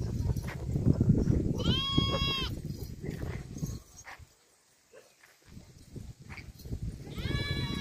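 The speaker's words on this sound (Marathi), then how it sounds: "शेळ्या कशा काय आत जातात?" Goats in a shepherd's settlement give two drawn-out, wavering bleats, one early and one at the end, close by amid people talking and yard noise.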